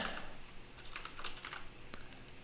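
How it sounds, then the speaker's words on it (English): Rapid typing on a computer keyboard, a close, dense patter of key clicks in short bursts with one sharper keystroke near the end, no voices. "I'm just typing it here so I can see it."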